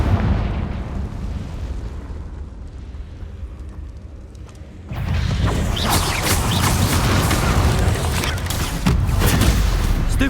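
Blasting explosions from the Confringo spell in Hogwarts Legacy, a lower rumble giving way to a sudden louder stretch of crackling, booming bursts and debris that stays intense to the end.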